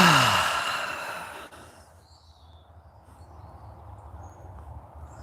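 A horse breathes out heavily in a long, loud sigh-like exhale during saddle training, followed by quieter, steady breathing and faint background noise.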